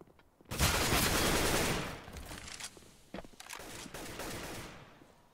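A Counter-Strike match on de_nuke: a sharp, loud spray of automatic gunfire breaks out, then trails off into scattered shots and a few shorter bursts.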